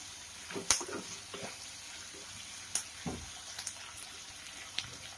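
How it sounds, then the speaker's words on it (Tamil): Onions and tomatoes for chutney sauté quietly in a pan, with a soft sizzle and a few sharp clicks and scrapes of stirring scattered through a low kitchen background. "இப்போ இது எல்லாத்தையுமே இப்போ நல்லா வதக்கிடலாம்"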